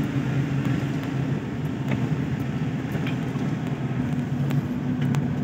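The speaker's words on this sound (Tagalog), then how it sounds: "Madulas pero kayang-kaya nung sasakyan. Dahil pick-up ito." Pick-up truck climbing a slippery, steep road in Quezon Province, its engine a steady, close, continuous drone with low rumble throughout and no pauses.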